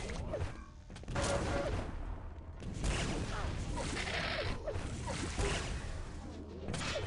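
Rocket launcher fire in the Quake video game during a competitive duel, a dense stream of loud blasts, whooshes and explosions with short gaps between volleys.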